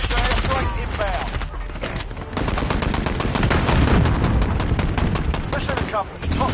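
A friendly precision airstrike in a video game: dense rapid gunfire and explosive bursts hammer on continuously and loudly, with a game voice mixed in.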